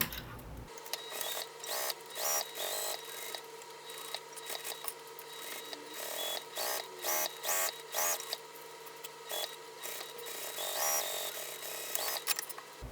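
A sewing machine stitches a gusset seam on a canvas satchel, running in short whirring bursts separated by brief pauses, close up and fairly loud over a steady low hum, without speech.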